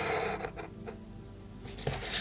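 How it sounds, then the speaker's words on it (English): Scissors cutting a straight line through paper while making a homemade envelope, a soft, close, continuous scraping snip with a couple of brief clicks, quiet and without talk. "And I will cut a straight line from here to the corner here."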